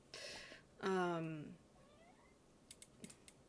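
A house cat gives a close, drawn-out meow with a rising and falling pitch, followed by a short softer sound and a few faint keyboard clicks in a quiet room.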